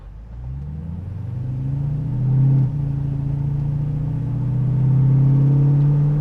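Hemi-swapped 1971 Dodge Challenger accelerating, a deep, steady engine rumble that rises in pitch and strength with a brief lift around the midpoint, heard continuously from inside the car with no talking.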